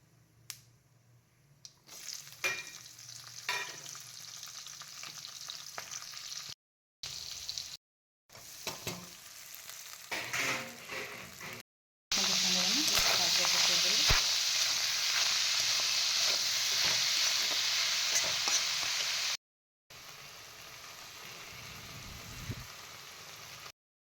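Spices sizzle in hot oil as a tempering (phoron) for a home-cooked meal, heard as an intermittent crackling fry broken by short gaps, with light stirring clicks and a louder, denser burst of sizzling near the middle.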